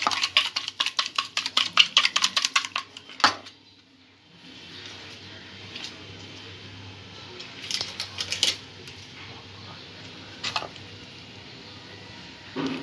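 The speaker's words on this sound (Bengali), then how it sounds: "ভালো করে চিনিটা ডিমের সঙ্গে ফেটিয়ে নিতে হবে।" Sugar being whisked into eggs by hand in a bowl, a fast run of rhythmic clicking strokes for about three seconds, then quieter, softer scraping and occasional taps.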